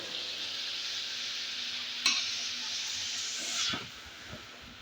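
Spice powder and chili are stirred into food in a hot pan, a steady sizzle and hiss with a couple of brief scraping clatters from the spoon.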